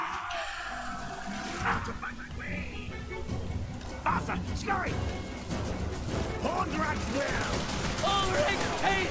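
Skaven gunfire from a Total War: Warhammer battle, a dense, chaotic stream of shots and crashes rattling on throughout, heard under continuous talking.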